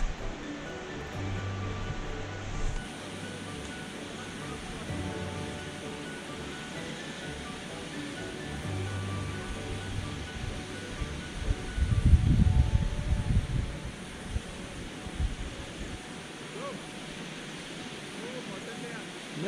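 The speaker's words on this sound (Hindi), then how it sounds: "फाइनली वाटरफॉल तक पहुँच गए हम, बहुत ही सेक्सी व्यू है, प्यारा सा।" Waterfall and rushing snowmelt stream on a mountain trek in a Himalayan wildlife sanctuary, a steady broadband roar of water throughout, swelling louder near the middle, with a low rumble passing briefly.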